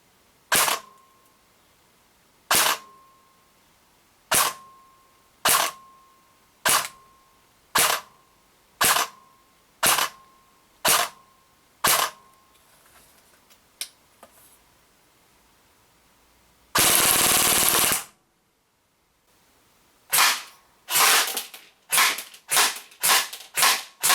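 DYTAC SLR AK105 airsoft AEG shooting semi-auto at a 10 meter range, a steady series of sharp loud cracks about a second apart, a burst of noise midway, then a faster run of shots.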